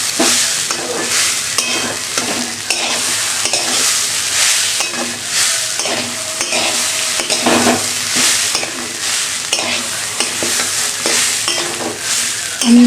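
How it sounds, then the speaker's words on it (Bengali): Rice and lentils dry-fried in a pan for khichuri, stirred continuously, giving a close, loud rattling, scraping sizzle with a steady rhythm of spoon strokes. "আমি চাল ডালটা ভালো করে ভেজে নেব"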